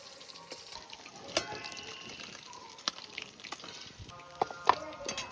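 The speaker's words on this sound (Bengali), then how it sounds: "একদম হালকা করে মাছগুলো ভেজে নিই।" Fish fry lightly in a pan, giving a quiet, steady sizzle and crackle with a few sharp clinks of a utensil near the end.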